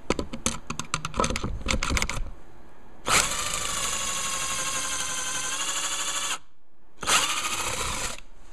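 A power drill whines steadily at high speed boring pocket holes in wood with a pocket hole jig, stopping briefly before spinning up again, preceded by a short stretch of scraping and rattling.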